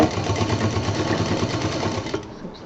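A sewing machine stitching a baby diaper bag with elastic and a zip, running steadily with a dense mechanical whir for about two seconds before slowing and trailing off.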